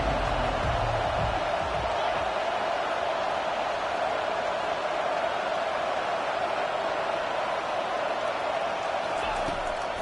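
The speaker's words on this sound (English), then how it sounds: "Decibels rising as the crowd gets behind this defense on third down" Football stadium crowd roaring during a third-down defensive stand in a Florida vs Ole Miss game, a loud, steady wall of noise filling the whole stretch without letup.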